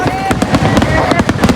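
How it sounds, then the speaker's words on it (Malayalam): Festival fireworks burst at the Vadavannur Kummatti celebration in the rain, a loud rapid string of bangs and crackles with voices mixed in among the blasts. "പിന്നെ ഞങ്ങൾ 2 പേരും കൂടെ മഴയത്ത് ആ വെടിക്കെട്ടും കണ്ടു നിന്നു"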